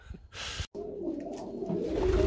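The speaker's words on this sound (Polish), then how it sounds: "O, wesoło jest w Gołębniczku." Pigeons cooing inside a pigeon loft, soft throaty coos rising over a rustle and a brief burst of wing or movement noise, close by.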